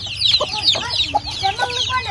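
Chickens on a poultry farm cluck and call in a close, busy run of short, repeated notes, with several birds overlapping and no talking.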